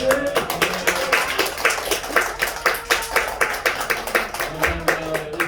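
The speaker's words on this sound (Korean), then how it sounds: "박수 한번 하겠습니다." A congregation at a Sunday church service claps in a steady, rhythmic beat of many hands striking together, loud and near, with a few voices and murmurs mixed in beneath the clapping.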